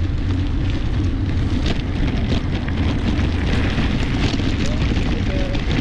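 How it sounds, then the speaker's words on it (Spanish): Strong wind roars and buffets without pause during a half marathon in Monegros, Spain, amid a hailstorm, a loud, gusty rush close to the listener. "De la nube de granizo y del viento."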